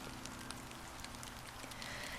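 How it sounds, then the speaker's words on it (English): Soft, steady rain patters evenly on a surface, faint and continuous with scattered small drop ticks and no voices, a gentle rain bed for a calming sleep hypnosis. "welcome all the beautiful sounds of the rain"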